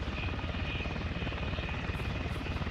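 A helicopter flies in Arma 3 with a loud, continuous, steady rotor and engine roar that fills the whole moment, close by and unbroken.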